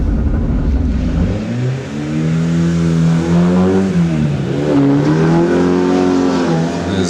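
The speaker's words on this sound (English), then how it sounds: "There's Goosen in his MR2 now, makes his way up into the hairpin." A Toyota MR2 race car at a hillclimb drives up toward a hairpin, its engine a loud, steady drone that rises and falls in pitch as it revs through the gears, close and continuous with no talk.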